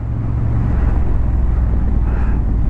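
A 2023 Honda CB750 Hornet motorcycle rides along with a steady low engine drone mixed with wind rush, loud and close throughout, no speech.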